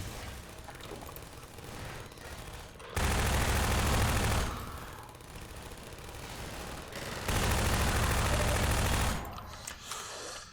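Automatic turret gunfire in Half-Life 2, with two loud sustained bursts of rapid fire over a busy background of game combat noise.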